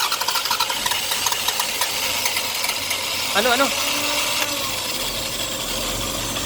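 A Toyota Camry engine, long unused, turns over under steady broadband noise, with a brief strained rise near the middle before settling into a running hum; a voice speaks briefly.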